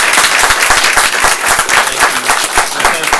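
A room of people at a board meeting breaks into sustained applause for veterans, loud and close, with dense overlapping claps that stay steady from start to finish.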